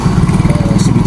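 An electric coffee grinder grinds coffee beans in a brief burst of loud, rapidly pulsing motor drone, heard up close.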